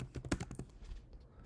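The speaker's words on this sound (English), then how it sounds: "you type in the address" Quick burst of typing on a computer keyboard, a rapid cluster of crisp key clicks followed by a few scattered lighter taps, close and quiet with no talking.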